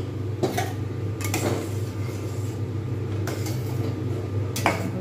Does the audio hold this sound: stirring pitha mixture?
yes